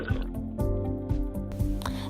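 Water pours into a glass in a home kitchen, giving a gurgling, rising fill with rhythmic glugs, close and clear, with no voices.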